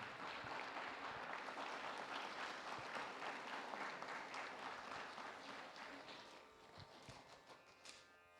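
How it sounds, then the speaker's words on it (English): Concert audience applauding after a veena recital, a dense, fairly quiet clapping that holds steady and then thins out toward the end, with a few scattered late claps. "Please give her a big applause."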